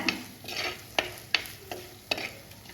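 Chilli powder masala sizzles in a pan as a spoon stirs it in quick strokes, producing several sharp scrapes over a soft frying hiss, close and quiet, with no talking.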